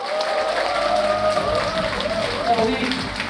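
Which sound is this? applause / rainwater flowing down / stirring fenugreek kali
applause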